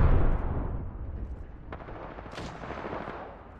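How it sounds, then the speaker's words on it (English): Gunfire in the battle royale game Apex Legends, a few distant shots and bursts ringing out under a dense, rumbling game soundscape, with a sharp report near the middle and another crack shortly after. "hold on, I hear shots"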